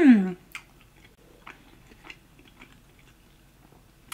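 Soft, close chewing of tender pork belly: a few moist bites and wet mouth clicks spaced out over a few seconds, faint and intimate after a brief vocal murmur at the start.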